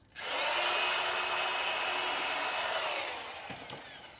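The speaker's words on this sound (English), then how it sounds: "So I'll drill a few more of these holes." A power drill whirs steadily as it bores holes into wood for a birdhouse, a loud high-pitched buzz that winds down after a few seconds, with faint clicks at the end.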